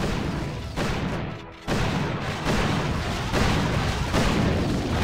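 Rapid bursts of gunfire and booming blasts from a hero's weapon in the mobile strategy game Boom Beach, loud and continuous for several seconds, with one brief dip before the barrage resumes.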